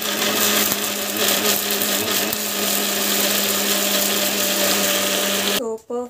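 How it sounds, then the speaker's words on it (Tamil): A mixer grinder whirs loudly and steadily for several seconds grinding chutney into a fine paste, then winds down abruptly as it is switched off. "மிக்சியில் வந்து ஸோ ஒரு ஃபைன் பேஸ்ட் மாதிரி அரைச்சிக்கலாம்."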